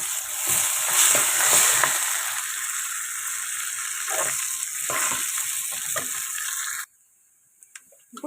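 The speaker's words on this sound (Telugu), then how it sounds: "దీనిలో నేను కసూరి మేతి వేసుకుంటున్నాను" Curry leaves and dried fenugreek leaves (kasuri methi) fry in hot oil for a tempering, a steady close sizzle with stirring scrapes that runs for about seven seconds, then cuts off abruptly to near silence with a few faint clicks.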